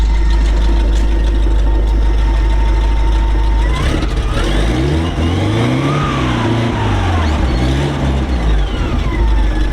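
An Alvis Saladin or Saracen armoured vehicle engine runs loud and close, a deep steady idle that rises and falls through a couple of revs before settling back, with no talking.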